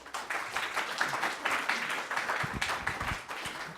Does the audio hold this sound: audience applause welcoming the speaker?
yes